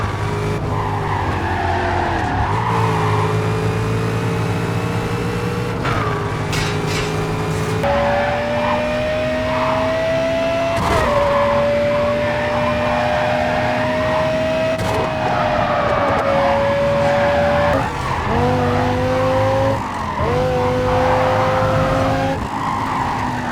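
Race car engines from the video game Need for Speed: Carbon rev and whine steadily, rising and dropping in pitch through gear changes, with repeated tire skids and squeals cutting in, loud and continuous with no talking.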